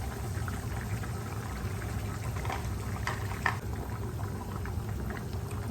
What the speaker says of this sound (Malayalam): മീൻ നല്ലതായിട്ട് തിളച്ചിട്ടുണ്ട്